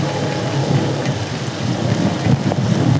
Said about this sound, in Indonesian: Hujan benar-benar sangat lebat pagi hari ini.